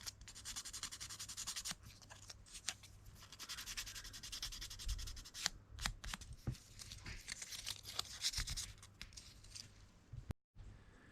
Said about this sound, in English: just letting the sandpaper do the work